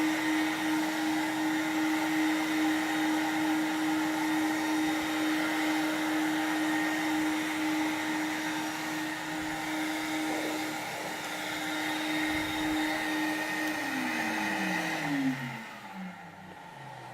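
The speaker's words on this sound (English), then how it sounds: "So now I'm going to let off the water in this vacuum-only dry pass now." A Rotovac rotary carpet cleaner runs a vacuum-only dry pass over carpet, a loud steady whirring drone with a sustained whine that falls in pitch as it winds down near the end.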